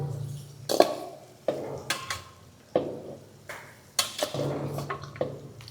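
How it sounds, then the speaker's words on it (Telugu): Pieces of country chicken drop into a cooking pot with several distinct clattering knocks and thuds at irregular intervals, close and fairly quiet. "ఇప్పుడు చికెన్ వేస్తున్నాను."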